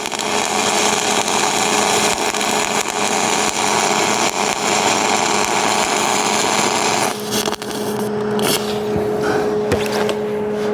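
MIG welding a tie-in weld: a loud, steady crackling buzz of the arc runs almost the whole time, close and continuous, with a brief dip and change in tone near the end.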